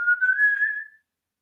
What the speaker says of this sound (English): That's some impressive whistling.